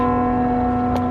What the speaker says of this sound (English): Yep, the bells agree. It's 11 o'clock, so it's on the hour